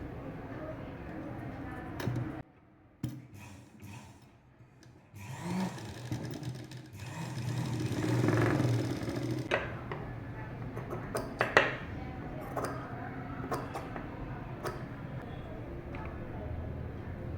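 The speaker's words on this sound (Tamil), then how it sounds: "இங்கேருந்து இங்கே வரைக்கும் தைக்க போகிறோம்" A sewing machine stitches colourful fabric piping at a tailoring table, with a steady mechanical whir building in the middle stretch. Someone talks over it throughout.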